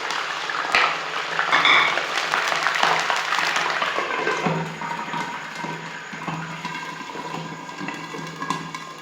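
Chicken liver pieces drop into hot oil in a pan, setting off a loud, dense crackling sizzle that gradually eases into steadier bubbling.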